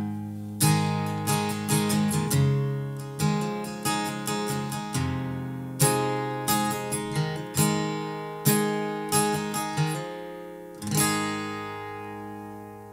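Guitar chords from a jazz piece are played on the upper four strings, with bright strummed and picked chords ringing out in short phrases and gaps between them, alone and close up.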